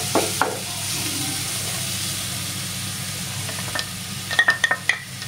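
Semolina sautéing in a pan for pineapple sheera gives a steady low sizzle with soft stirring scrapes, then a few sharp clinks of a spoon near the end; no one speaks.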